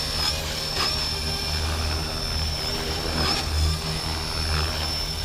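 A Blade 330S RC helicopter hums steadily as its rotor spins up after switching to idle up, a loud constant whine with a high tone, close by and with no speech.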